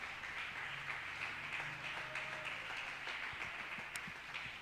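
A church congregation applauds together, a soft, dense, continuous patter of clapping heard from a distance with no voices over it.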